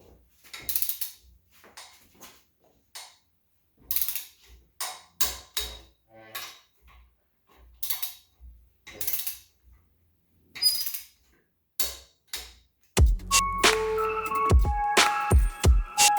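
Torque wrench tightening the cylinder head bolts on a Honda B18B1 engine in a crisscross pattern: a series of sharp metallic clicks and ratcheting pulls, close by, then a denser stretch of clattering mechanical noise near the end.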